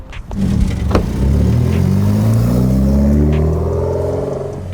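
A Mitsubishi Lancer Evolution X GSR pulls away, its engine revving up loud and close with a rising pitch through the gears, heard alone without talk.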